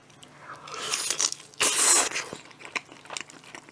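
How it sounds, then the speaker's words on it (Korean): Someone bites into and chews old-style BBQ fried chicken close up. Crisp crunches and tearing bites are followed by moist chewing, with a louder crunchy burst in the middle and no talking. "이렇게 치킨이 반쪽알이가 났는데 이어서 먹어보도록 하겠습니다"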